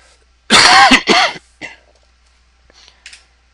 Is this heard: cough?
yes